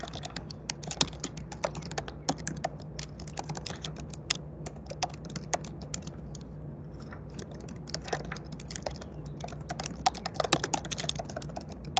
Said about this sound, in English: I see Leilani typing, Ernie typing, Meredith typing, Emilio typing.